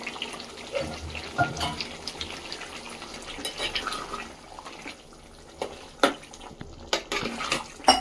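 Mutton fat added to a simmering gravy sizzles and bubbles in a pot for a village-style mutton curry, a faint crackle broken by a few sharp clinks of utensils.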